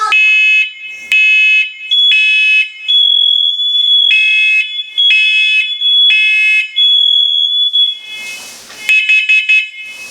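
A First Alert smoke and carbon monoxide alarm sounding close and loud, with shrill high-pitched beeps in a repeating pulsed pattern, briefly broken by a rustle of handling near the end.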